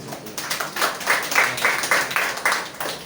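A church congregation applauds together during a sermon, a steady run of moderately distant claps with a rhythmic pulse across a few seconds.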